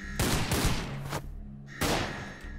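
A grenade goes off in the video game Project Emerald with a loud, close blast. A sustained rumbling burst follows and another heavy impact comes near the end, with no voices over the noise.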